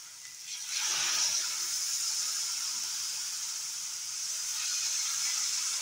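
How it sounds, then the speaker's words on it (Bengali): Water is poured into a pan of fried onions and spice masala for a fish curry, bursting into a loud steady sizzle and hiss that swells after a brief quiet start and continues to the end. "এখন জল দিয়ে দেব।"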